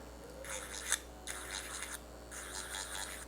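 An electric nail drill files a fingernail on its lowest setting. It makes three short, close, buzzing scratchy passes separated by brief pauses, and nobody speaks.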